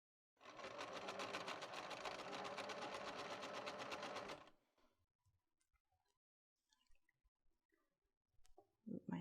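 Close, steady sewing machine whir stitching a knit T-shirt sleeve for about four seconds, then stopping and leaving faint handling clicks and rustles.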